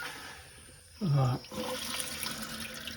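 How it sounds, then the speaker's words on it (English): Water is turned on and starts filling a Kohler toilet tank after a flush valve replacement, a brief loud gush followed by a steady hiss of running water. "Okay, time to turn on the water."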